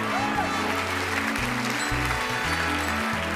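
An audience at a charity presentation in a theater applauds with a continuous, even patter of many hands, while low, sustained music tones play underneath.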